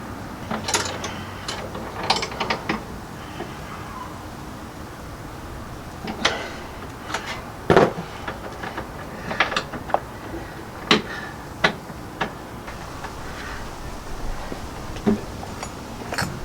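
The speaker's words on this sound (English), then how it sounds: "I need a bigger wrench." A wrench ratchets on a brake line nut during rubber brake line replacement on an air-cooled VW, producing scattered metallic clicks and clacks, close and intermittent, with quiet pauses between bursts.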